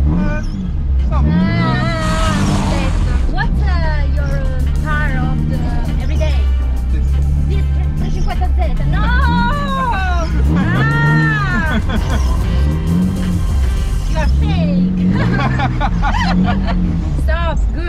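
A Nissan 350Z drifting through repeated 180-degree spins, its engine droning and revving steadily and loudly throughout, with people talking over it.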